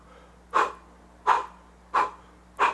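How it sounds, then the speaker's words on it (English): Four sharp, evenly spaced breath blows pushed out through pursed lips, like blowing out candles one after another during a singing breathing exercise, close and clear with quiet pauses between each puff. "as if you're blowing out 5 candles."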